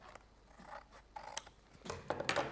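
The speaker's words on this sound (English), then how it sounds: "Trim that edge down." Scissors trim the edge of a die-cut paper element, a few quiet close snips that grow into denser, crisper cutting toward the end.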